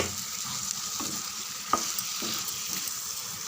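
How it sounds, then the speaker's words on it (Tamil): Chopped large tomatoes sautéing in a pan of eggplant gravy, a continuous close sizzle with occasional spatula clicks and scrapes. "இதையும் சேர்த்து ஒரு 3 நிமிஷம் நல்லா வதங்கட்டும் ஃப்ரெண்ட்ஸ்."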